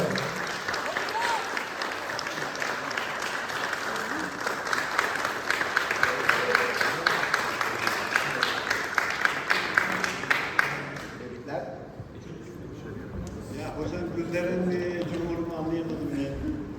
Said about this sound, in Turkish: Alkışlayalım geleneksel kategorimize.